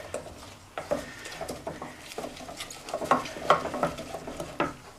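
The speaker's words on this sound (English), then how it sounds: "Onions, my leeks are now going in. Give that a little stir around." Onions and leeks being stirred in melted butter in a pan, with irregular scraping and clinking of a utensil against the pan over a faint background sizzle.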